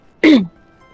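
A single short, harsh cough, loud and close, standing alone against near silence.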